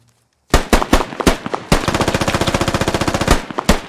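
A machine gun in the video game Squad dumps its magazine. A few spaced shots lead into a rapid, sustained burst of loud, close automatic fire, then a few more single shots at the end.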